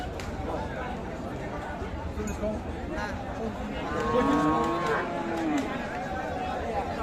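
A cow lets out a drawn-out moo over steady crowd chatter and livestock commotion at a busy cattle market in Ambari, Dinajpur, with Sahiwal cows and calves.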